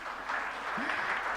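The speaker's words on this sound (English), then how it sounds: "You need to clap for my team members," An audience at a school event claps steadily and fairly loudly for about a second and a half, a dense wash of applause with a faint voice underneath.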